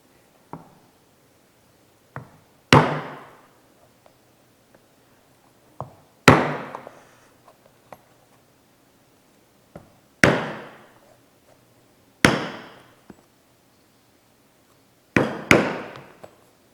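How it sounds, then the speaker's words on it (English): Stitching chisels being hammered through leather for a map case satchel, with about six sharp, ringing mallet strikes at irregular intervals, each followed by a short decay, and lighter taps between them. "I'm going to go ahead and just put the chisel over top of the holes and just punch right through."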